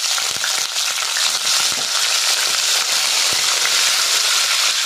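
Potatoes frying in hot oil in a home kitchen pan, producing a loud, steady, close sizzle with faint crackles and pops throughout, no speech over it.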